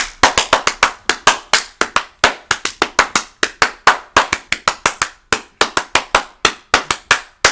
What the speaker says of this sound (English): Here's the clap